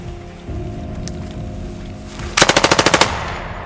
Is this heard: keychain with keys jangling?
no